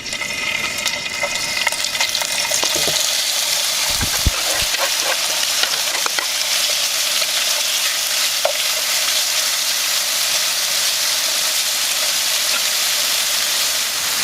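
Al pastor pork sizzles and fries in hot oil in a pan, a steady, close, continuous hiss with occasional faint stirring clicks and no talk.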